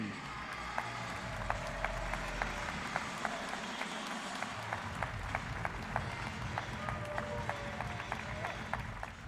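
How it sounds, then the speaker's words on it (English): Audience applause at table tennis Olympic trials, a steady crowd clapping that carries on throughout, with sharper individual claps cutting through and a few faint voices mixed in. "keep that applause going"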